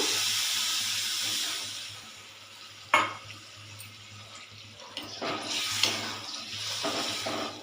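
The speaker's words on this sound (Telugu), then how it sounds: "ఇప్పుడు కొంచెం వాటర్ యాడ్ చేస్తున్నాను." A broad watery rush and sizzle as water is added to a hot pan of egg and tomato curry with chilli powder, easing off, then a few clinks and renewed sizzling.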